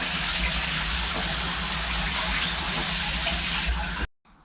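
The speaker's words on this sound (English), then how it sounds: "we'll give them a quick rinse off" Water gushes steadily from a tap as washed metal parts are rinsed off, a loud continuous broadband splash that runs for about four seconds and then cuts off abruptly.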